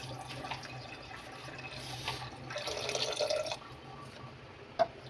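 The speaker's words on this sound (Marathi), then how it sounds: "आता आपल्याला याच्यामध्ये पाणी घालायचं आहे." Water pours into a pressure cooker over soaked chickpeas, a soft, steady trickle rising into a fuller splashing flow, then a brief sharp clink near the end, with no talk.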